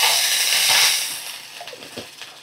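Water poured into a hot pan of curry leaves and green chillies bursts into a loud steamy hiss that fades within a second or two into softer bubbling sizzle.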